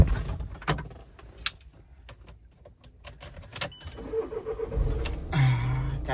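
A motorbike engine starting, with a cranking and catching burst near the end after some clicks and handling noises, fairly close; no talk.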